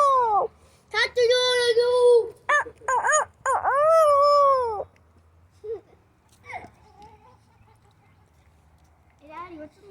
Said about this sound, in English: Look, there's a dog again.